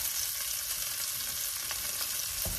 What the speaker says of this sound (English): just keep browning the rest of the pheasant